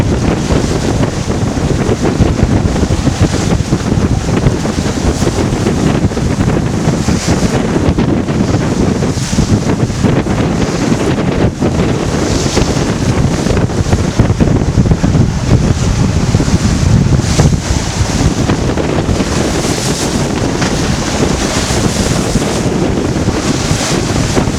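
Strong wind of about 18 knots roars across a sailboat under way near Current Cut off Eleuthera, buffeting the microphone continuously with rushing water and waves beneath, loud and unbroken throughout.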